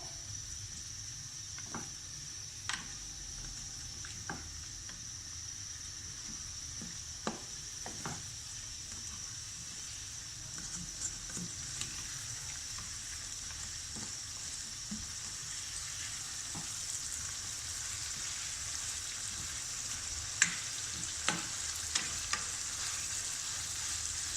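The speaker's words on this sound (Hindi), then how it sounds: "ये देखें, इसी तरह मैं इसको तकरीबन 2 मिनट तक लगातार ऐसे भूनूंगी।" Chicken and lightly browned potatoes fry with biryani spices in a pan, giving a steady soft sizzle punctuated by scattered clinks and scrapes of a spoon stirring, close and continuous.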